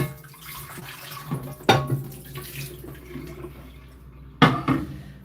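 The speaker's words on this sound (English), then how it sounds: "So the water is on." Water runs from a kitchen tap, a steady soft splashing stream with two louder bursts of gushing as the flow shifts or hits a pot.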